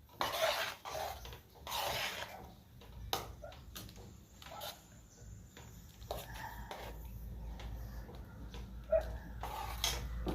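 Crab gravy being stirred in a pot, soft scraping and rubbing strokes of a utensil against the pot in irregular bursts, quiet and close, with no one talking.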